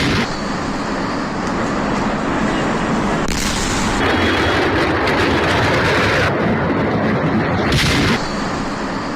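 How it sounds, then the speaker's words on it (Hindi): Blast at the Harda firecracker factory, a continuous loud roaring rumble of explosions lasting throughout, with heavy low booms and crackling bursts and no clear pauses. "तो सुना आपने कैसे धमाका हुआ"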